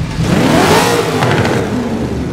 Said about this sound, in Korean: 제가 시동 한번 켜보겠습니다. 스타트!